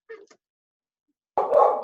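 A dog barks: a short, faint yip at the start, then after a silent pause one louder, close, rough bark that trails off.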